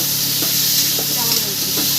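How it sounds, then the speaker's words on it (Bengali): A shrimp and water lily curry stirred in a hot pan, giving a dense continuous sizzle with soft spoon scrapes, close and fairly loud. "দিয়ে ভালো করে নাড়িয়ে নেব"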